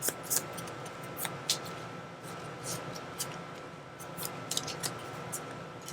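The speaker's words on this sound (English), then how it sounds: "I'm going to shuffle this up." Game cards for a solo tabletop game, Stamp Swap, being shuffled by hand, giving a few quick riffling and snapping bursts over a low steady background hiss, close and fairly quiet, with no talk.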